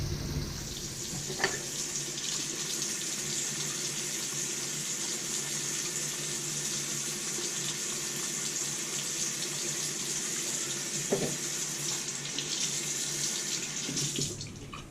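Steady running tap water splashes continuously over a hard Ozuku Koppa sharpening stone, close and even in level for the whole stretch, with a couple of faint knocks.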